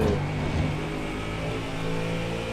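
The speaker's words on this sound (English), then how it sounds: "it just sounds like a race car." A GT3 race car engine in a sim racing game at Brands Hatch, a steady, loud, harmonic drone with no talk, holding roughly even for a couple of seconds.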